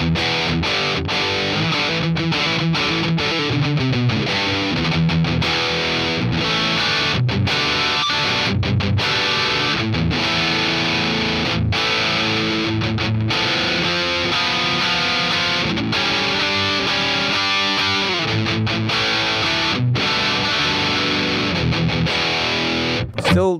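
Hard rock electric guitar tone from the PolyChrome DSP McRocklin Suite plugin, level up and drive down, playing a dense, continuous riff of loud chugging chords and fast notes without pause.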